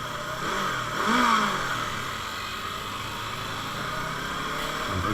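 A motorcycle engine revs on a street, rising in pitch to a peak and then settling into a steady, fairly loud drone that carries through the whole stretch.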